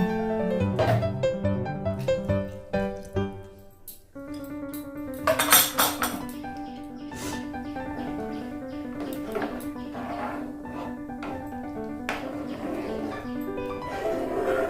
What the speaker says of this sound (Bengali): বাটিটা ধুয়ে এই জলটা নিয়ে নেব।